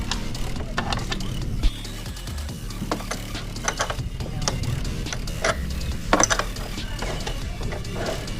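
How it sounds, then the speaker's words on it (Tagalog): Bolts are tightened on a Matris steering damper stabilizer fitted to a Wave 100/110/125 motorcycle, giving close ratcheting clicks and small metallic knocks in an irregular rhythm. "Tapos kailangan nga maigpit dapat yung bolts dito. So higpitan na natin."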